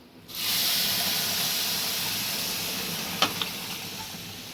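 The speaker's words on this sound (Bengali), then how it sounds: "এই যে জলটা এবার এতে অ্যাড করে দেবো।" Water poured into a hot pan of fried spices bursts into a sudden loud hiss and steam that holds steady and slowly fades, with one or two sharp clinks near the end.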